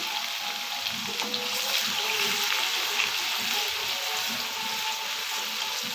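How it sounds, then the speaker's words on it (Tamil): Chopped garlic frying in hot, spluttering oil in a home kitchen while a tomato relish is prepared: a continuous, steady hiss and crackle of sizzling with fine popping throughout, no voices. "நல்லா பொரிஞ்சு வந்ததுக்கப்புறம் இந்த பூண்டு அதில் போட்டுக்கலாம்"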